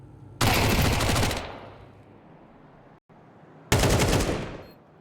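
Two bursts of rapid pistol fire in a Counter-Strike 2 match at an Asia-Pacific RMR esports event, loud and close, each a sharp volley that rings out and decays, separated by a quieter stretch of background ambience.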